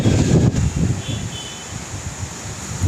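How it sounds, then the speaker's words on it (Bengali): Strong gusting wind of about 35–40 km/h during Cyclone Remal in a Bengal village under dark clouds, heard as continuous loud rumbling buffeting against the microphone, strongest at the start and end with a softer lull in the middle. "প্রচণ্ড হাওয়া দিচ্ছে পঁয়ত্রিশ চল্লিশ কিলোমিটার বেগে হাওয়া দিচ্ছে এই মুহূর্তে"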